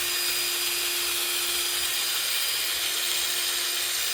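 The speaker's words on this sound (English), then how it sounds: "I'm drilling through the wall now" Steady, loud grinding whine of a drill whose bit is driven sideways through a wall like a rotary cutter, part of building a lamp, running continuously without pause or voices.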